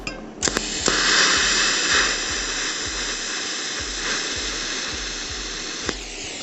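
An argon TIG welding arc burns on pipe with raised voltage and gas flow, a steady close hiss and buzz sustained for several seconds, with a faint rhythmic ticking underneath.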